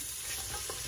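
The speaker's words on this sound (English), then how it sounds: "we'll just let that sweat down for a few minutes, stirring with a wooden spoon right here" Chopped vegetables for butternut squash soup sweat in a pan and give a faint, soft sizzle, with a brief scrape of a wooden spoon moving them around.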